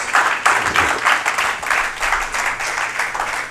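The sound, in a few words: congregation applauding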